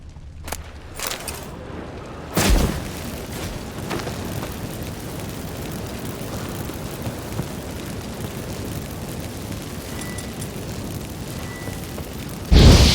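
A wooden shack is set alight in The Witcher 3: Wild Hunt, a sudden whoosh as the fire catches giving way to a steady roaring, crackling blaze with a heavier burst at the end and no speech.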